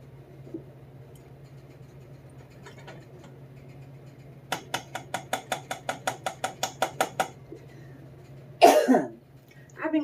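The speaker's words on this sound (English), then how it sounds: "I've been coughing like that all day." A long rapid burst of about a dozen dry coughs in quick succession, close by, followed by a harsher throat-clearing cough in a quiet room.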